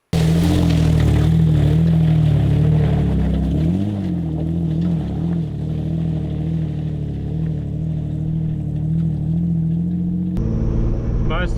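4WD vehicle driving the Macetown track in New Zealand, a close, loud engine rumble with low harmonic drone and shifting revs, steady for around ten seconds before a sudden change in the noise.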